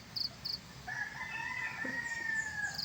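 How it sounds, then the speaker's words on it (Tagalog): A rooster crows once at moderate distance, a drawn-out call in an outdoor farmyard setting, with faint ambient noise around it and a few high chirps. "Bira tumilaok to kasi nababalahibo ni Tardy"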